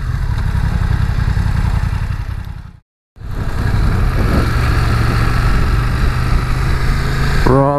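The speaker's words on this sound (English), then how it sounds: "Let me find some different sort of riding to do on the bike." A 2020 BMW F900R motorcycle on the road, its engine droning loud and steady with wind rush, cutting out for a brief silent gap before the ride resumes, ending with a rising whine.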